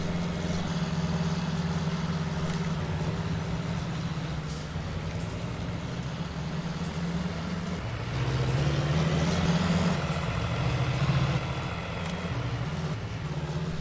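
A truck engine idles in Farming Simulator 19 with a continuous low, even rumble that shifts pitch slightly partway through and stays steady and close.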